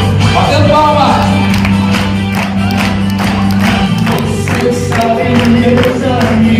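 An amusement park crowd claps and cheers for costumed Looney Tunes characters, steady dense applause with shouts and whoops over loud music and ambient noise throughout.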